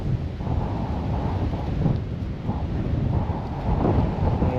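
Strong wind buffets the microphone on Loma de Tiscapa, a steady loud roaring rumble with gusty surges throughout and no voices.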